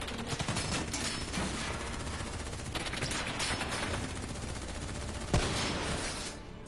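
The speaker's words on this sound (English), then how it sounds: "Who's shooting?" Dense, continuous video game gunfire from automatic weapons in a heavy firefight, loud and close, with a sharp louder crack near the end.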